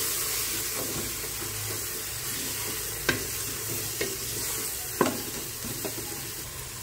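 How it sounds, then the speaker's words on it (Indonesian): Curry powder, turmeric and garam masala being stirred in a frying pan for a home-style goat trotter dish, with a steady sizzle and a few sharp scrapes of the spoon against the pan. "Diaduk."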